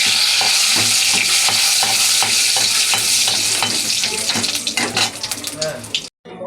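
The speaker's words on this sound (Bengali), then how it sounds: "জিরে, শুকনো লঙ্কা ও তেজপাতা দিয়ে দিলাম। এবার নাড়াচাড়া করছি।" Cumin, dried red chillies and bay leaves sizzle loudly in hot oil while a utensil scrapes and clinks against the pan in a steady stirring rhythm, ending abruptly.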